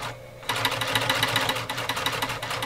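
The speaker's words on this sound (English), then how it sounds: "See, I'm sewing slower now using my hand." An Omega 307 sewing machine stitches thick material while slowed by hand, starting after a short pause into a fast, even mechanical chatter of repeated needle strokes, loud and close.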